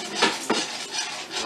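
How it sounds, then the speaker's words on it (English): A whisk stirring cheese sauce in a pot, giving close scraping, swishing strokes in a quick uneven rhythm with no talking. "Put her back in. Whisk her up."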